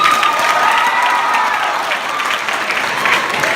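A diverse crowd at the historic Sixth & I Synagogue bursts into loud, dense clapping with scattered cheers, a sustained close wash of applause that stays strong from start to finish.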